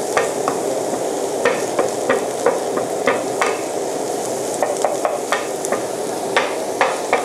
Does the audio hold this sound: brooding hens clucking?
no